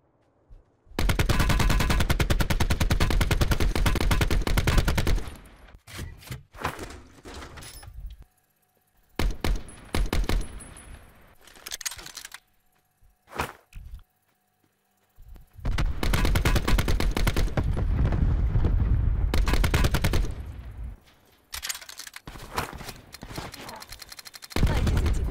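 Loud bursts of automatic gunfire in the battle royale game Black Ops 4 Blackout, long sustained volleys broken by short gaps and scattered single shots, with voices talking over parts of it.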